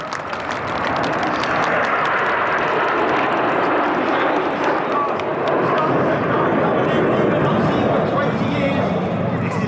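Royal Air Force aerobatic team jets flying overhead in a short diamond formation at an air festival, a loud, steady broadband roar filling the whole stretch, with a voice faintly audible beneath it.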